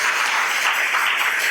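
A church congregation claps and applauds together during a Telugu Christian sermon, a steady dense wash of many hands with no pauses throughout the short stretch.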